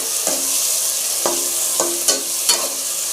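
A spoon scrapes and stirs tomato curry in a frying pan, with several distinct scraping strokes over a continuous soft sizzle, close and alone without talk.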